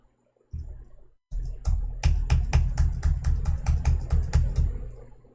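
Rapid, evenly spaced clicks of a computer keyboard being typed on, loud and close, starting after a brief pause and continuing steadily with no talking.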